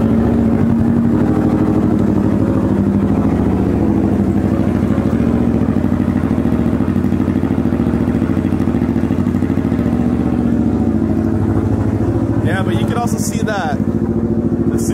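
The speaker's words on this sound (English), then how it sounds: "I did recently also put an exhaust on this freaking bike," A motorcycle fitted with a new, aggressively loud aftermarket exhaust drones continuously at close range for the whole stretch, with clattering noises near the end.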